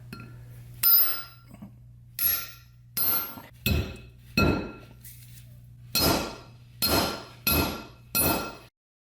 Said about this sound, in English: I'm just gonna give her a smack with the hammer